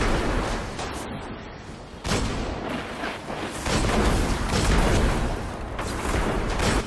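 Distant gunfire and booming battle noise from the Destiny video game, a dense, rumbling barrage that continues throughout and grows heavier in the second half.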